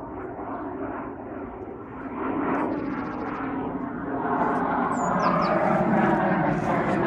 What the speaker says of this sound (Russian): Самолеты тут, конечно, сегодня разлетались неплохо. Это у них тренировка.